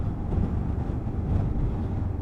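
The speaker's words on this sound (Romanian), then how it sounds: "aici e un vânt de numa" Strong wind at a campsite by Lake Vidra in the Romanian mountains, a close, continuous low rumbling roar with buffeting gusts swelling and easing across the stretch.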